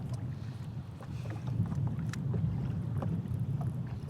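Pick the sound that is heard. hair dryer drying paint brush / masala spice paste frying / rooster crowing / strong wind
strong wind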